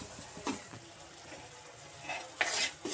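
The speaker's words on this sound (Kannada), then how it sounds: "ಈಗ ಇದಕ್ಕೆ ಈಗ ಸಕ್ಕರೆ ಪಾಕನ ಆ್ಯಡ್ ಮಾಡ್ಕೋತಿದ್ದೀನಿ" Sugar syrup is poured into wheat flour fried in ghee and stirred in a pan, giving soft scraping and a few short hissing bursts of sizzle, quiet overall.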